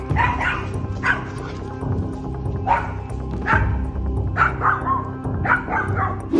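A dog barks repeatedly in quick bursts at a bear, sharp yips rising over steady background noise, loud and close, with no talk.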